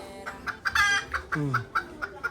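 A rooster gives a run of short, close clucks in quick irregular succession, with one longer throaty call in the middle.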